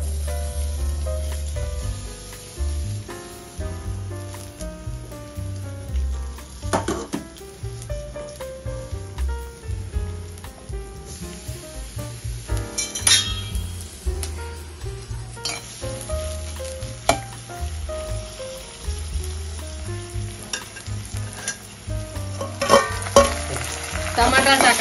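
Chopped onion hits hot oil in a pan for a spiced khichdi, setting off a loud, continuous sizzle with bursts of crackle, while music plays steadily underneath.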